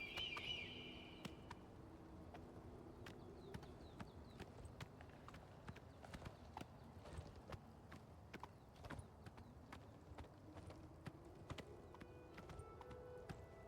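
Steady clip-clop of a horse's hooves while riding in a fantasy video game about hunting vampires, a continuous rhythmic trot with a few chirping birds and game effects faintly in the background.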